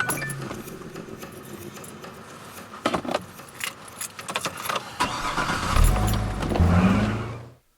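An SUV starts up and pulls away in a film scene, with a jingle of keys and scattered clinks before the engine swells into a low, rising rumble near the end.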